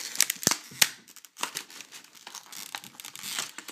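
Plastic packaging of a Pokémon X/Y card tripack crinkles and crackles as it is pulled open, sharp close bursts of rustling and tearing spread irregularly with brief pauses.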